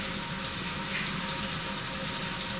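Water runs in a steady, even hiss while a postwar Lionel F3 train frame is wet sanded to prep it for paint, close and continuous with no talking.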